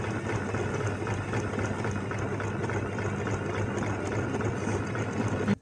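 A sewing machine stitches along a folded fabric edge, its motor whirring in a steady, continuous mechanical rattle close by that stops abruptly at the end.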